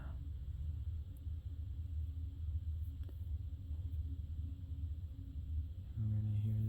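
Deep, steady low rumble from the rear DPU locomotive of CN freight train E2959 passing at West Ladysmith, continuous and fairly close, swelling louder and more tonal in the final second.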